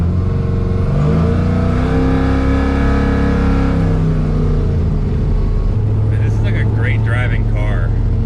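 An LSA-swapped Monte Carlo engine revs hard while driving on a turnpike, a loud, sustained roar rising in pitch with steady road and cabin noise underneath.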